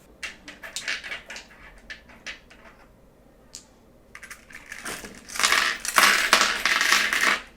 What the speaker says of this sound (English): I'm going to choose some stones for the animal actually.